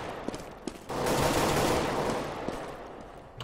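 Sustained bursts of automatic AK rifle fire in a video game, with a few sharp single shots before a loud continuous volley that trails off, no voices over it.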